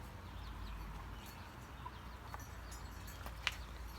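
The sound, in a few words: chickens clucking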